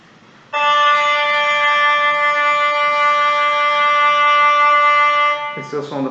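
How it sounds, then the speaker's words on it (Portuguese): After a moment of near silence, an electronic tuner plays a reference tone for the violin D string, a steady, bright buzzy note held for about five seconds, and a voice starts speaking just as it stops. "Esse é o som da corda Ré."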